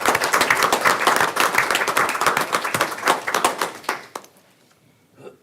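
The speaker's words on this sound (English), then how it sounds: "I'd like for us to give them a round of applause for the hard work that went into this effort, and to our teachers and staff" Applause from an audience at a school board of education meeting, dense clapping for about four seconds that thins to scattered claps and then fades to near silence.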